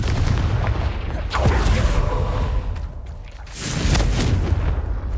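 The Confringo fire spell from Hogwarts Legacy bursting with deep rumbling blasts, one around the start and another building near the end, heavy low booms carried over continuous game ambience.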